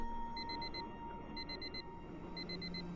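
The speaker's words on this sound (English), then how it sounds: "My alarm goes off and I sigh." A video game alarm clock goes off in three evenly spaced bursts of rapid high electronic beeps, each a quick run of four chirps, over a faint steady background tone.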